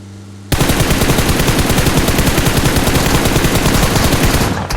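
Rapid automatic gunfire in the video game PUBG Mobile, a loud sustained burst of evenly spaced shots starting abruptly and running for several seconds before cutting off.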